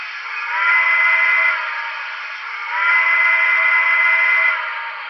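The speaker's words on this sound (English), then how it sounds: "Blow the whistle." A model train's small steam whistle blows in two long, steady blasts, rising and fading between them, clear and close with nothing else heard.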